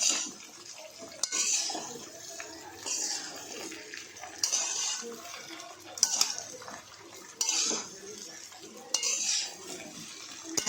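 A spoon scrapes and stirs bottle gourd muthiya pieces in a pan, rhythmic metallic strokes and clinks repeating roughly every second or two, fairly quiet and close, with faint sizzling between.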